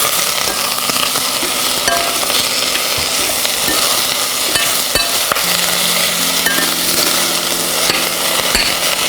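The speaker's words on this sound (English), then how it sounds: "I'm going to add now the leeks and my onions to my mushrooms." Leeks, onions and mushrooms cook in a one-pot vegan meal, giving a continuous loud sizzling hiss with occasional clinks and scrapes of stirring, close and steady throughout without speech.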